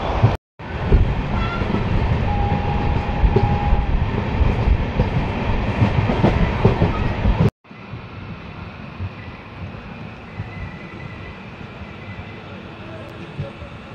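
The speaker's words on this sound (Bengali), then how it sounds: "কলকাতা সাইরাং এক্সপ্রেস ট্রেনটি বহরমপুর স্টেশন ঢুকলো" The 13125 Kolkata-Sairang Express rolls into Berhampore station with a steady, loud rumble and clatter of wagons, broken by a cut midway, then continuing as a quieter running drone with wind buffeting.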